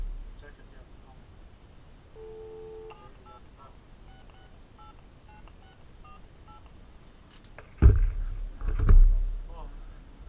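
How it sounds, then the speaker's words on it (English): A telephone on a shopping mall phone line gives short touch-tone dialing beeps and a steady tone, followed by louder handling thumps near the end. "So I've got a dial tone."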